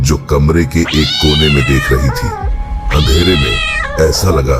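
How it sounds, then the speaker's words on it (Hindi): A cat meows loudly in long, drawn-out wails, mixed with a narrator's voice speaking over it. "कुछ समय बाद एक बिल्ली की आवाज सुनाई दी"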